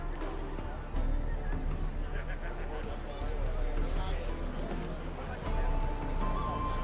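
Horses in The Witcher 3 whinny and clop their hooves as mounts are chosen for a ride, set against a steady game soundscape with talk running over it.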